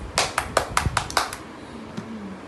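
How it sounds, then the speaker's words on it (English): A child clapping hands, about six quick claps in an even rhythm, fairly close, followed by a short stretch of quiet room sound. "Clap your hands."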